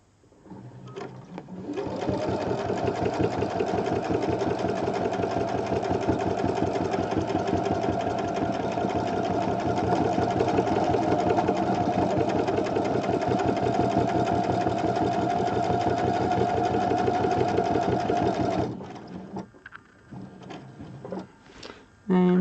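A sewing machine stitches Westalee Design angel wings in one long, steady run of rapid, even needle strokes, then stops abruptly and leaves a few faint handling clicks.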